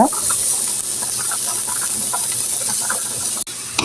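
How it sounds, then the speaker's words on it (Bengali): Onion and garlic fry in hot oil in a pan, giving a steady, loud, close hiss with scattered light pops and crackles and a brief dropout near the end. "আমি পেঁয়াজ রসুনগুলি ভালো করে হচ্ছে ব্রাউন করে ভেজে নিব"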